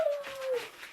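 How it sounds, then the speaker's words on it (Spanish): A female dog gives a brief, high, falling whimper at close range, followed by quieter breathy noise. "Es una perra."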